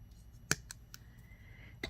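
Wire cutters snip through the sharp end of a handmade wire hook for a seashell and crystal suncatcher, giving a single sharp, close click followed by a few lighter metallic ticks.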